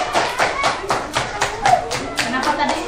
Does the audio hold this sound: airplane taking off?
no